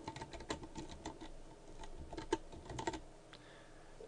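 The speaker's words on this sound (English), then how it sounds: "type in the new text, enter for a new line" Rapid, continuous typing on a computer keyboard while entering text in Blender, with close, light clicks pattering for about three seconds before trailing off into near quiet.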